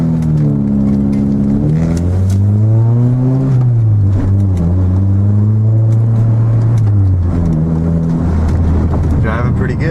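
A Honda Prelude, fresh from an alternator replacement, is driven on a test drive, its engine loud and close with the pitch rising and falling through gear changes and a steady road rumble beneath.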